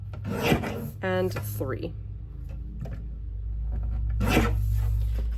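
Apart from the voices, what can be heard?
paper strip being trimmed in a page kit workshop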